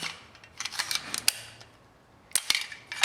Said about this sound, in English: The magazine ejects very positively, as you'll see. As soon as I push that button,